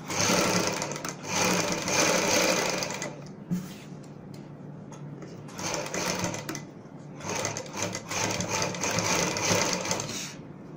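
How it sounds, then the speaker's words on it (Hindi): A sewing machine runs in three long bursts while stitching the bottom hem of palazzo pants. The loud, rapid mechanical chatter is close, with brief pauses between runs. "अब हमारी सिलाई यहाँ पे आराम से चलेगी मशीन"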